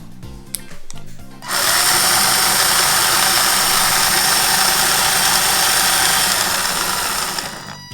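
Electric motor of a home-built RC rock crawler whines loud and steady at full throttle on a bench test, rising sharply after a few short blips and holding a constant high buzz before easing off at the end.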